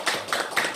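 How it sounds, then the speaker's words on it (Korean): Hand clapping during a Sunday afternoon church service, three loud sharp claps spaced evenly apart, close and alone with no talk over them. "우리 박진영 박수 쳤나요?"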